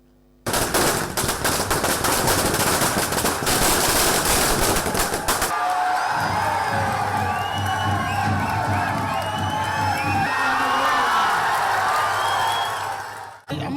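Firecrackers bursting at a street celebration of a political party's election win, a dense rapid crackle of explosions for the first few seconds, then giving way to a steady crowd din with music and voices.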